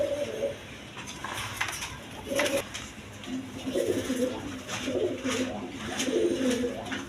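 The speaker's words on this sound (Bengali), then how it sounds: "দর্শকবৃন্দ এখানে এক পেয়ার হলুদ কালার বোম্বাই কবুতর আছে" A pair of yellow Bombay pigeons on a farm coo repeatedly at close range, their low rolling calls recurring over a steady background hum with scattered clatter.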